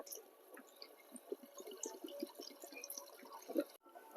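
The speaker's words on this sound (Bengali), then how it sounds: "এবারে একটু ঠান্ডা জলে চাউমিনটা ধুয়ে নেব।" Boiled chowmein noodles being rinsed under cold water, producing close trickling, dripping and splashing sounds that rise and fall irregularly before stopping abruptly near the end.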